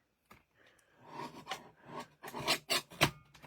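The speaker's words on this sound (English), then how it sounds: "I'll use my little trimmer" A small trimmer cuts a piece of paper in several quick, close rasping strokes that grow louder toward the end, heard alone without talk.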